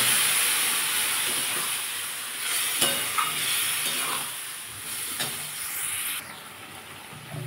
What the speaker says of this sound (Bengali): আমি এবার বাটি ধোয়া জলটা দিয়ে দেবো।